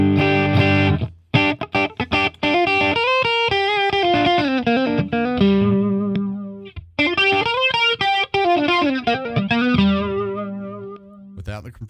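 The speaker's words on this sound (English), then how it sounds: "I'm using it to actually bring up the electric flanger and give me compression as well" Electric guitar played through a compressor and flanger on an iPad amplifier, with a compressed, sustained tone and a swirling effect, playing a steady run of notes up close with a brief pause midway.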